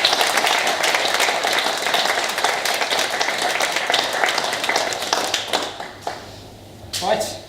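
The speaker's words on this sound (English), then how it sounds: "If we could have a round of applause as well for John." Audience round of applause, dense steady clapping for several seconds that thins out and fades, followed by a few scattered claps and a brief burst near the end.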